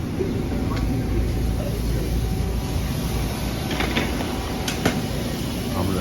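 A train at Jamaica station, New York, gives a steady low rumble with a faint continuous hiss and a few light clicks. It stays fairly loud and even throughout, with no clear voices.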